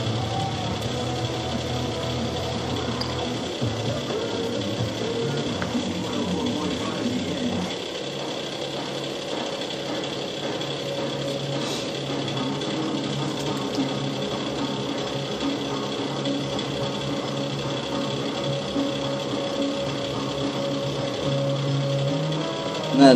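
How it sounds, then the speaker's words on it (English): Space heater running in a cold workshop while a 1998 KX250 crank goes in, giving a steady mechanical whir and rattle throughout, moderately loud and unchanging, with a voice intermittently over it. "that noise you hear in the background, if I'm even still being heard, is a heater because it's cold in my shop."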